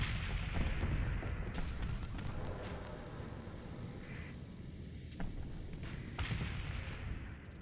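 Missile and weapon fire in the Starsector space combat game, a dense, continuous barrage of rumbling blasts and crackling impacts, loud and busy throughout with a few sharper hits standing out.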